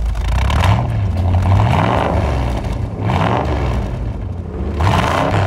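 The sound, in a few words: 1963 Ford Mustang V8 engine starting and idling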